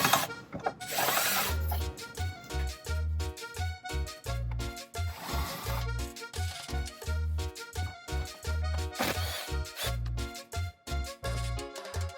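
Bolts on a Jeep Wrangler's side step brackets being backed out with a 13mm socket on a power tool, repeated short buzzing bursts in a steady stop-start rhythm, close and fairly loud.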